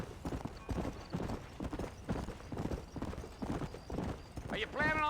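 Horse hooves clip-clop at a steady gallop in the Red Dead Redemption video game, close and continuous, with a neigh near the end and voices talking over the hoofbeats.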